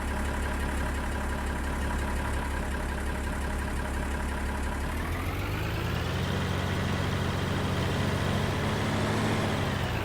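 An open-station tractor in Farming Simulator 19 idles with a steady low drone, then about halfway through the engine note shifts and rises, its pitch changing before it settles into a new steady hum.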